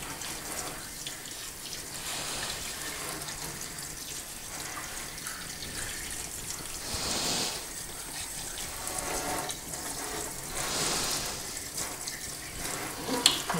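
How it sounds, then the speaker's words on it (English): Water runs steadily as it rinses a freshly machined 2-stroke engine cylinder, a continuous hiss and splash that swells briefly twice as the flow shifts over the metal, with no talking. "Give it a quick rinse."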